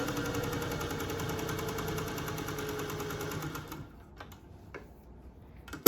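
Restored vintage Singer 201-2 sewing machine with a potted motor stitching two layers of cotton muslin, a smooth steady whirring hum that stops after a few seconds, leaving a few faint clicks.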